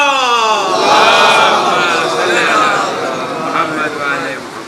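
A large crowd at a Shia religious celebration in Chhota Imam Bada roars back a chanted 'Haidari' slogan in unison, a loud, sustained collective shout that swells and fades over several seconds.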